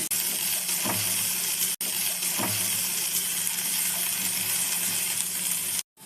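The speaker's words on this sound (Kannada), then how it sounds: "ಈಗ ಕ್ಯಾಪ್ಸಿಕಮ್ ಹಾಕೋತಾ ಇದ್ದೀನಿ" Capsicum hits a hot tawa while tawa pulao is cooked, giving a continuous, close, loud sizzling hiss with a few soft clinks, broken by a brief silence near the end.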